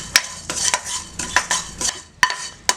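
Asafoetida and spices dry-roasting in a pan for homemade sambar powder, with repeated close clinks and scrapes of a stirring spoon against the pan and a faint sizzle between strokes.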